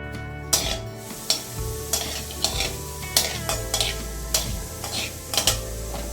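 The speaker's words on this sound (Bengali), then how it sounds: "সর্ষেটা একটু ভাজা ভাজা হলেই ওর উপরে আমরা সবজিগুলো দিয়ে দিব" Black mustard seeds crackle and sizzle in hot oil as a spoon stirs and knocks against the pan in regular sharp taps, close and steady with no speech.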